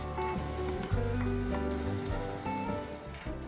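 Gnocchi frying in melted butter in a pan give off a steady, close crackling sizzle with a few brief knocks and shifts, continuous throughout with no talking.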